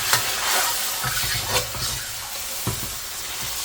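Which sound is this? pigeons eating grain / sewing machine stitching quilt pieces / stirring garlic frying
stirring garlic frying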